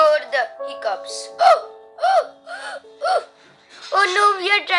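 A cartoon mermaid hiccups repeatedly in sharp, high voiced bursts, about eight in a row at uneven intervals, with a longer squeaky vocal outburst at the end.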